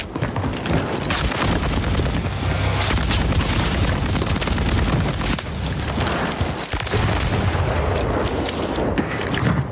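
Continuous PKM machine gun fire in a video game, dense rapid bursts mixed with booming impacts, loud and close, running without pause throughout.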